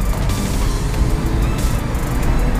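Honda Civic EXR automatic with the economy mode switched off, accelerating: a steady engine roar from inside the cabin holds at constant loudness through the short stretch.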